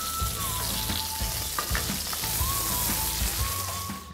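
Meat browns in butter in a frying pan with a loud, continuous close sizzle broken by scraping stir strokes and utensil knocks.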